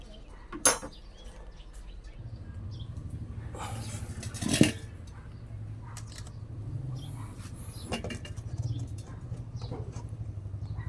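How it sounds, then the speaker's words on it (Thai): A pot and lid handled while boiling beans on a stove, with a few sharp metallic clanks and knocks scattered among quiet background noise, including one bright clank early and another louder one midway. "เดี๋ยวหาฝามาปิดแล้วจุดเตา"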